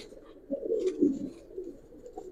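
A Giribaz pigeon coos softly in a loft, a low, throaty rolling call that swells and fades over a couple of seconds, fairly close but quiet.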